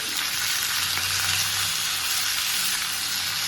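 Red chilli pieces and a long-cut tomato roasting in a pan over medium gas for sambar, giving a steady, close sizzle throughout with no talk.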